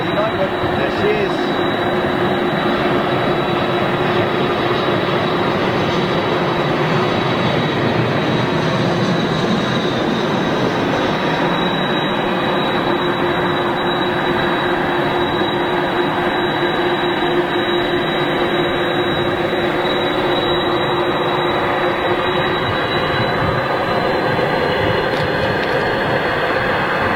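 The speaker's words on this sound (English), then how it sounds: "Sound 747 is indeed awesome. Here we go. CF6 power on the this particular" Boeing 747 with CF6 engines at Manchester Airport, a loud sustained jet roar with a thin high whine that holds steady throughout, close and powerful, with a voice talking over it.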